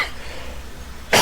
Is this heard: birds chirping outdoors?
no